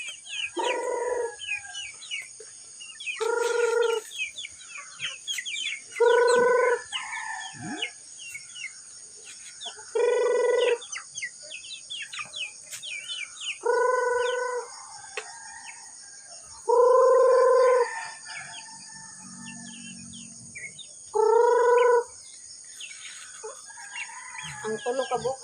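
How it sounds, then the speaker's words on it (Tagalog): Chickens at feeding time, with a rooster crowing about seven times in separate loud bursts every few seconds over softer clucking and a constant high insect-like hiss in the background. "Mamahog na sa manok guys."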